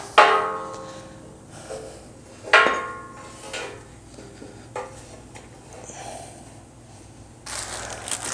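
A heavy Badland Apex 12000 winch is set down into a vehicle bumper, giving two sharp metallic clanks followed by softer bumps, scrapes and rattles of metal on metal, close up with no talking.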